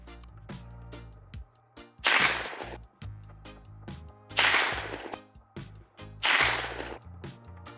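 Three sharp, loud gunshots spaced about two seconds apart from a Smith & Wesson Response 9mm AR-9 fitted with a Hux Works Cash 9 suppressor, with mechanical clatter between shots.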